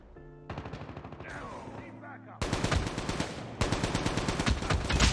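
Rapid automatic fire from an ASM10 assault rifle in Call of Duty Mobile, dense bursts of close gunshots that grow louder partway through, with game effects layered in.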